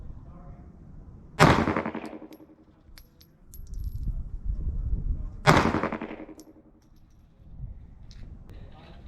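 Two sharp, loud pistol reports from .380 ACP ammunition, about four seconds apart. Each crack has a ringing tail, and the sound between shots is quiet.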